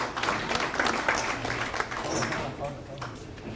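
Audience applause at a Korean party policy advisory committee appointment ceremony, a steady clatter of clapping with voices mixed in throughout.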